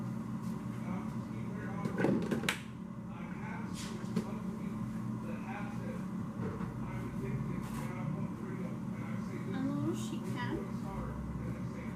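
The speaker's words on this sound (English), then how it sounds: "I'm going to get a little sheet pan" A small metal sheet pan is taken from a kitchen cabinet, a brief clatter and cupboard bump near the start, followed by steady low room noise with the cook moving around.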